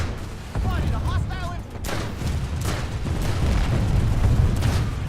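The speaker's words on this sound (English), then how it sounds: "NC units up there. Firing down on the base." Gunfire from units firing down on a base in the video game Planetside 2, a dense, continuous wash of shots and booms under a talking voice, loud and sustained throughout.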